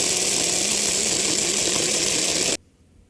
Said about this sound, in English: that should be the last grind for the flour